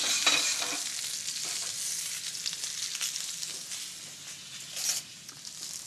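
Veal stock meat glaze is stirred into an olive oil, vinegar and herb sauce in a hot pan, with a steady soft sizzle and light scraping of the spoon close by.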